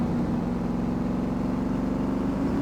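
A steady, low engine rumble from a Mercedes Brabus B63 in the driving game City Car Driving drones on without a break, smooth and continuous, with no voices over it.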